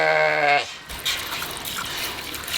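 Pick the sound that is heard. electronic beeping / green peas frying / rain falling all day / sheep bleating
sheep bleating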